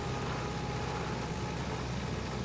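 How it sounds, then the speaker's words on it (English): Tractor engine in the video game Farming Simulator 22, a steady droning hum with a slightly odd, mobile-phone-recorded character, continuous and moderately loud. "somebody went out with a cheap, with his mobile phone and recorded the tractor"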